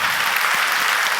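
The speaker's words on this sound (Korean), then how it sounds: "우리 당의원, 우리 장로님들께도 박수." A church congregation at a Sunday worship service bursts into loud, close, dense clapping, a brief, unbroken roar of many hands with no voices.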